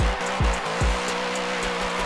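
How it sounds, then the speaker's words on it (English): Plymouth Prowler dragster doing a burnout in Forza 7, a loud, steady engine roar with harmonic drone and brief revving surges, alone without talk. "Oh, Forza 7 burnouts, baby."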